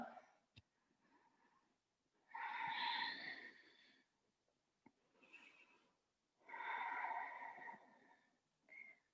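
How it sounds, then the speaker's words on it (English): Slow audible yoga breathing during a vinyasa class, with two long, loud, breathy exhales of about two seconds each, quieter inhales between them, and a short final breath at the end, heard close with no talking. "Breathing slow with sound."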